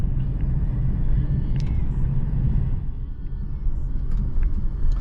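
A 1999 BMW 328i E46 drives along with a steady, low cabin rumble that swells and dips slightly. Soft thumps and faint clicks sit over the engine and road noise.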